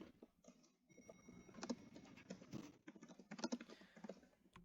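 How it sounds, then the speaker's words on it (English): Quiet clicking of keys on a computer keyboard, irregular bursts of typing pattering softly in the background. "you can hear my keyboard in the background"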